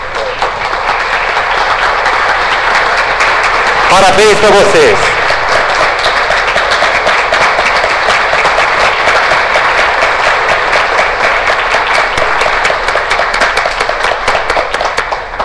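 An audience gives a long, steady round of applause for agricultural extension workers at an institutional event, with dense continuous clapping throughout and a voice briefly speaking over it.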